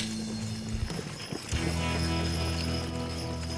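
Clydesdale horses clip-clop through a parade, their hooves beating out a steady rhythm under a constant wash of crowd and background noise.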